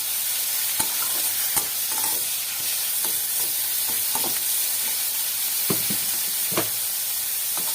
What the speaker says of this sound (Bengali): টমেটোটা একটু ভালো করে নেড়ে চেড়ে নেবো বন্ধুরা, তাহলে টমেটোটা একটু নরম হবে।